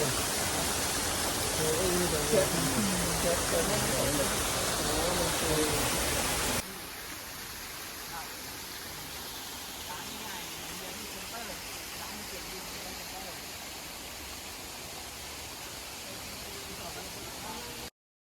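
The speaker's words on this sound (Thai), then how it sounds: "แค่นี้น้ำตก" A waterfall in Nainital, India, gives a dense, steady rushing roar that is loud at first, then drops to a softer constant wash after a few seconds, with voices faintly mixed in.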